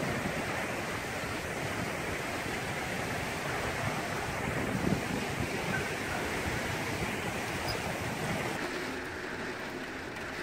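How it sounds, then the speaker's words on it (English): Strong wind roars steadily outdoors as broad, unbroken rushing noise, with gusts buffeting the microphone. "So it's a little bit windy out."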